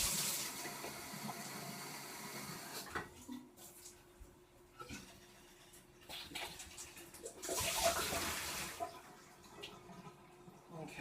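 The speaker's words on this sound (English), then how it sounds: "I'm going to go ahead and rinse this out real quick" Water splashes and gurgles as a hookah vase is rinsed out, a soft rushing hiss with sloshing bursts, fairly quiet and close, with no voices.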